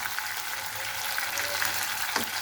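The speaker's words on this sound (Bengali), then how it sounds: "আজকে আমি মাছটিকে মচমচা করে ভেজে নেব" Rui fish fries crisp in a pan of hot oil, a continuous bright sizzle and crackle holding steady throughout, close and fairly loud.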